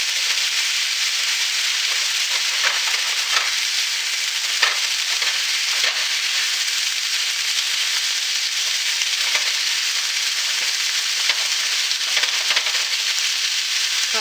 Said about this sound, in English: I just wanted it to sizzle.